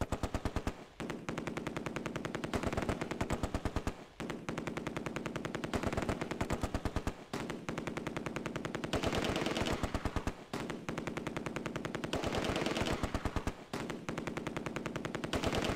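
Sustained machine gun fire in a Close Combat World War II game, with an MG42 and a Vickers trading long rapid bursts. The fire is dense and nearly continuous, broken only by brief gaps, with no voices.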